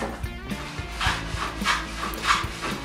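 A hand plane shapes a wooden brace for a baritone guitar top, giving three rhythmic rasping strokes spaced about half a second apart, close and moderately loud, with light knocks between them.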